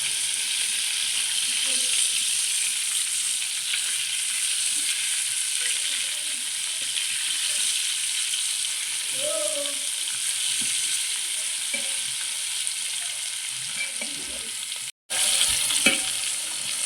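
Fish fries in a pan with curry leaves, a continuous close crackling sizzle with occasional stirring clinks and a brief louder burst near the end.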